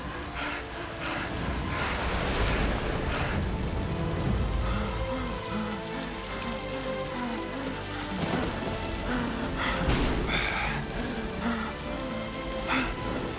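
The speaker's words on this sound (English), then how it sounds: "putting the big rain rigs up into the air, that I can just pan and move around for the different shots" Heavy artificial rain pours from large overhead rain rigs on a film set, a steady, loud hiss of water striking surfaces throughout, with faint low rumbling beneath.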